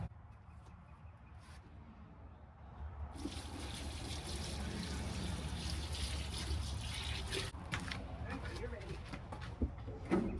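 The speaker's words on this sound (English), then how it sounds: "I'm gonna put my hot water in here so that they can soak" Hot water poured steadily into a container, a soft rushing trickle that starts partway through and continues at an even level.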